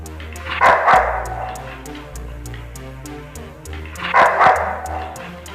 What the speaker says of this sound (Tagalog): makikita ang aso na tumatahol na tila ba gustong makipaglaban sa Mountain Lion